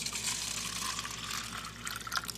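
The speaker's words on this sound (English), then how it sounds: "I'm just going to pour some of that into the cup." Cloning solution poured from a container into a cup, a soft, steady trickle of liquid with light splashes, close and quiet, with no talking.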